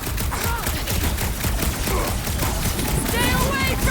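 Rapid continuous gunfire from big guns in the video game Marvel's Guardians of the Galaxy, a dense steady barrage lasting throughout with clattering effects layered on top and voices speaking over it.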